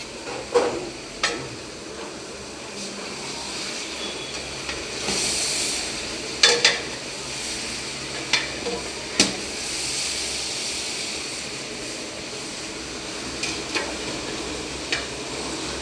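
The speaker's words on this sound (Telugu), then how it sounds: "క్లియర్గా మిక్స్ చేసుకోవాలి. అప్పుడప్పుడు కలుపుతూ ఉండాలి" Chicken frying in a pan sizzles with a steady hiss while a spoon stirs it, with scattered scrapes and clicks against the pan at close range.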